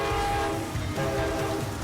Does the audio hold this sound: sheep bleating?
no